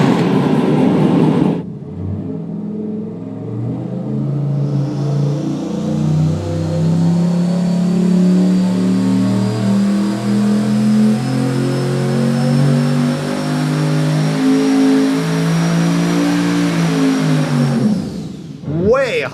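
An engine on a dyno run with no charge cooling roars as it sweeps up through the revs, a loud, sustained, rising drone with strong harmonics before cutting off abruptly near the end.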